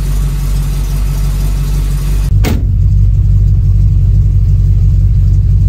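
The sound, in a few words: 1936 Chevy engine running on a drive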